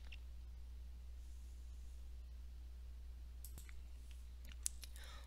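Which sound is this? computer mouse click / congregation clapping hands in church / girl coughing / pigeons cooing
computer mouse click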